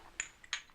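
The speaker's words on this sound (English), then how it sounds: "We're gonna clink!" Two bright glass clinks ring out in a quick toast, about a third of a second apart, crisp and close with a short shimmering decay.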